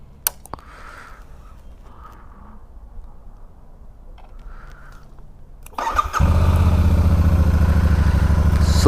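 A Royal Enfield Super Meteor 650 motorcycle sits quietly at night with faint background sounds. Its engine then cranks and starts, settling into a loud, steady, close-up running rumble.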